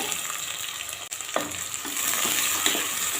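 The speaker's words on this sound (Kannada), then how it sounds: "ಈಗ ನಾನು ಟೊಮೆಟೊ ಹಾಕ್ತಾ ಇದ್ದೇನೆ" Tomatoes hit a hot frying pan while a chicken curry base cooks. A steady, close sizzle briefly dips, then swells louder as the tomatoes go in, and the frying crackle stays strong and even afterwards.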